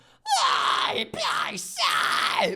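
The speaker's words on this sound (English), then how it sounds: "And there's something called a head fry scream." Three harsh, high, gritty head fry metal screams in quick succession, loud and close, each with a sharp onset and a falling, strained tail.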